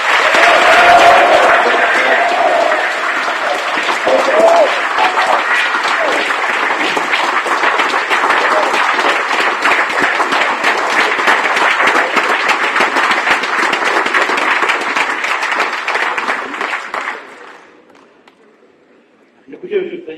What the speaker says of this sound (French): très heureux de participer à un congrès où on arrive à faire applaudir le nom de Nicolas Sarkozy.